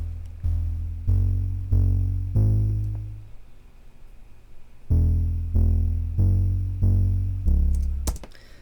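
Warm, tube-distorted synth bass programmed in Ableton, playing a rhythmic pattern of sustained low notes with strong harmonics, pausing briefly in the middle before resuming, loud and alone.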